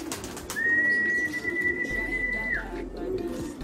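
Pet pigeons at feeding time give a soft coo along with a long, clear whistle-like call, over faint background noise outdoors.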